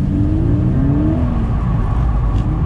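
A Toyota GT86 or Subaru BRZ fitted with chassis braces accelerates at full throttle, a loud, close engine roar rising in pitch over a heavy low rumble.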